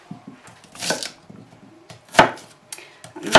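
A knife chops onion on a cutting board in a kitchen while making kulebyaka, a Russian pie: a few sharp, close taps spaced irregularly, with quieter scraping and handling noises in between.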